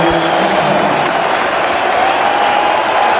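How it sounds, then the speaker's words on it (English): Cricket crowd at The Oval applauding steadily during an England versus Australia Ashes Test, a dense, continuous wash of clapping and crowd noise with some voices mixed in, no single voice standing out. "Andrew Flintoff makes his way out, and the crowd want him to entertain them"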